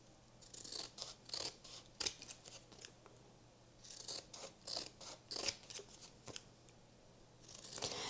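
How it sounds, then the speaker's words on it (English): Scissors trim around the edges of a decorative transfer on a thrifted item, quiet crisp snips arriving in short clustered bursts with brief pauses between cuts. "And then we're just gonna trim around the edges."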